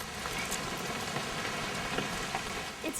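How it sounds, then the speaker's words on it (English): Steady rain hisses in the video game What Remains of Edith Finch, a soft, even wash of drops with scattered patters, fairly faint and with no one talking over it. "It's gonna rain the whole weekend"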